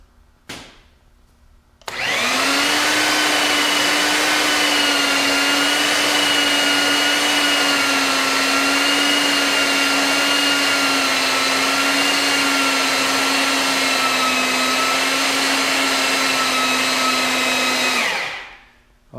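A Princess Auto portable electric pipe threader runs steadily with its die backing off a pipe thread, a loud continuous motor whine with a stable hum lasting about sixteen seconds before spinning down.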